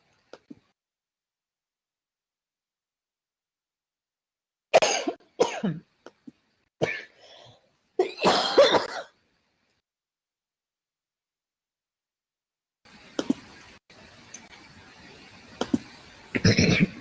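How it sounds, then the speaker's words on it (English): Several sharp coughs in short bursts, some clustered close together, followed by a quieter stretch with faint movement and another cough at the end. "It's just I'm coughing a lot today."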